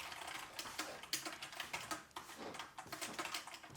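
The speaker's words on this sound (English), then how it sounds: "It doesn't actually feel too bad typing on it." A 20-year-old full-size computer keyboard with a numpad being typed on up close, with a fast irregular clatter of keystrokes and a few sharper key hits over a few seconds.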